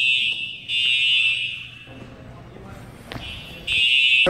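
A school fire alarm blares in loud, harsh buzzing bursts that stop briefly and start again, with voices talking through the gaps.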